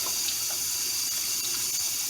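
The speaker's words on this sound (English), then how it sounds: "So I'm going to continue rinsing this to get that salt all out of there." Water from a kitchen sink tap runs steadily over salted sweet pickle relish vegetables as they are rinsed, a constant close splashing hiss with no talking.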